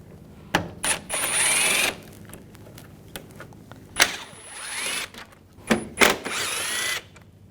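Power tool with a T30 socket driving out screws from a 2004-2009 Audi A4 Quattro front grille, several short whirring bursts with ratcheting clicks between them, close and alone.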